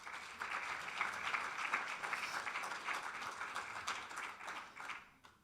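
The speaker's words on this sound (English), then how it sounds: "So please, another applause for the volunteers." Conference audience applauding the event volunteers at a closing address, a sustained, moderately distant wash of many hands clapping that thins out toward the end.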